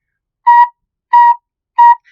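Three separate, clear recorder notes on B with the holes fully covered, each about a quarter second long with even gaps between them, pure and whistle-like, close and alone, ending in a faint brief squeak.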